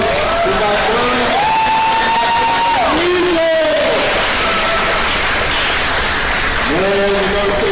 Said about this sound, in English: Can I get one more huge round of applause for my friend?